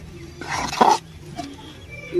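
A female dog makes a brief growling, whimpering vocal sound near, amid a noisy outdoor village scene with some speech around it.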